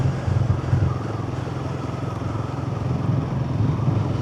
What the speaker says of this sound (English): You're going to enjoy riding this bike.